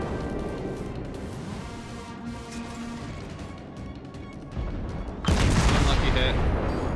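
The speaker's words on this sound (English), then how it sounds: "So fire to clear the barrel" Naval gunfire from a Nuremberg cruiser in World of Warships, a run of booming shots and rumbling blasts under a voice, growing louder and denser toward the end.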